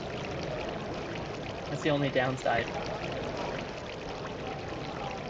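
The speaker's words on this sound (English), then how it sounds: "water fountain is so loud" A steady rush of flowing water from a fountain in the video game Epic Chef runs continuously throughout, with a person talking briefly over it.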